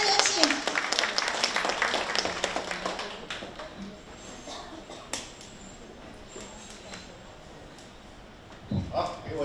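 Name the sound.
audience applause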